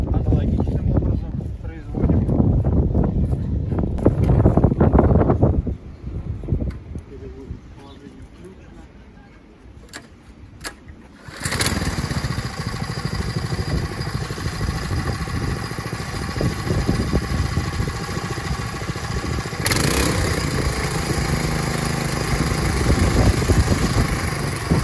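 A walk-behind motor cultivator set up for ploughing starts and then runs with a steady, loud engine drone. Wind buffets the microphone and someone speaks over the machine before it settles into continuous running.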